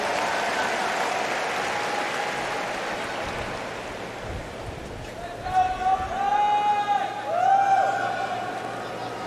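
Crowd at a 2025 US Open tennis semifinal between Djokovic and Alcaraz applauding in a broad, steady wash of clapping, with a rising roar and whistles toward the end, while a commentator talks over it.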